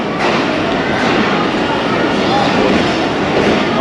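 Train at a crowded Khanewal Junction railway station after the 2022 floods, a loud, continuous rumble of rail cars and station bustle, with voices mixed into the dense noise.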